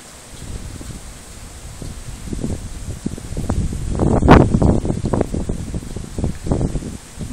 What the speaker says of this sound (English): here comes some wind